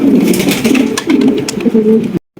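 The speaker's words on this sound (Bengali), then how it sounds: "এখানে দেখতে পাচ্ছি খুবই সুন্দর এক জোড়া কবুতর" A pair of Polish King pigeons coos in short, overlapping low throaty calls at close range, fairly loud and steady for about two seconds before cutting to silence.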